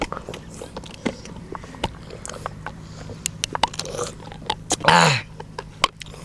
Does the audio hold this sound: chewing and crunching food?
yes